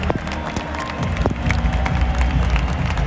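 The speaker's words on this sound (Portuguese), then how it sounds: "É aplauso de geral aqui pro Fluminense aí" A stadium crowd at the Club World Cup final in Saudi Arabia applauds Fluminense, a broad wash of clapping and cheering that holds steady throughout, with a few sharper claps standing out near the front.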